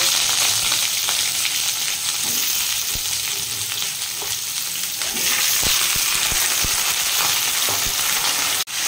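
Vegetables frying in oil with turmeric and salt in a kadai, a loud continuous sizzle with intermittent spatula clicks and scrapes, ending in a brief dropout, with no voices.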